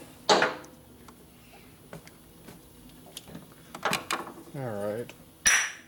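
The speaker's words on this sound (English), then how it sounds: "Just needs a real hammer, that's all." A hammer strikes at a seized screw on a 1957 Harley panhead motorcycle part, sharp scattered metallic blows among clanks and scraping, with brief talk.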